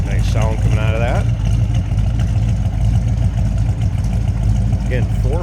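A 1970 Dodge Charger SE with a 440 engine idles with a steady low rumble close by, while someone speaks briefly over it near the start and end.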